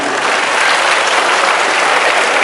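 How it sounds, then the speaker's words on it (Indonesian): Loud, continuous applause from an audience of Scout leaders at a training event, a steady wash of many hands clapping with no break. "Tepuk tangan semuanya"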